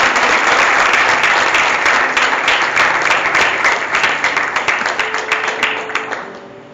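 A large church congregation at a youth worship service claps in sustained, loud applause that gradually tapers off near the end, with a low hum of voices underneath.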